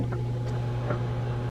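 A microwave oven running on high while heating a bowl of lemon curd, giving a steady, close, even hum with one low tone that never changes, broken only by a quick drop right at the end.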